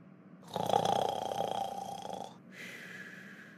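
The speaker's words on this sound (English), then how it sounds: "Can you stop snoring?" A long, rough snore rumbles loudly for about two seconds, followed by a softer, thinner breath sound, with a cartoon-style quality and no talking.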